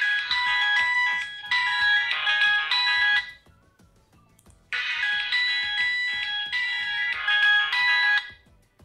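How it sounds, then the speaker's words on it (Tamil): Ringtone playing loudly from the speaker of a Realme Dizo Star 500 feature phone: two long bursts of a bright repeating electronic melody separated by a short pause. "ரிங்டோன்ஸ் எதுவுமே வந்து கண்டிப்பாக மிஸ் பண்ண மாட்டோம், செம லவுடாகவே இருக்குது அதெல்லாம்."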